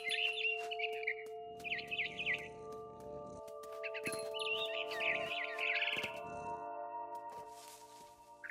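A frightened barn swallow chirps in the video game What Remains of Edith Finch, with quick repeated bursts of twittering, rustling flutters, and soft thuds over a steady low ambient hum.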